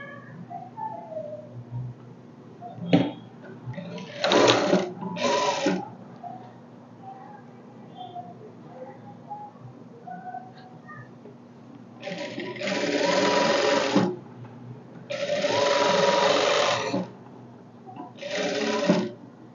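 Sewing machine stitching a blouse, running in several short bursts of rapid mechanical clatter with quiet pauses between them, close and fairly loud.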